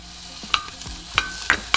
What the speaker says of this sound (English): you're gonna melt some butter